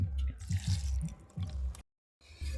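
Water is poured in small amounts into a mixer jar of soaked rice, making close, soft dripping and squishy splashes in short bursts with a brief pause.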